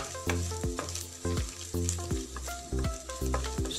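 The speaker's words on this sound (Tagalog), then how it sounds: "Stir fry nyo ng konti hanggang sa lumabas yung aroma ng bawang." Garlic and browned beef stir-fried in a hot pan, with loud sizzling and a steady rhythm of spatula scrapes and clanks, close up, about six distinct strokes, no voices.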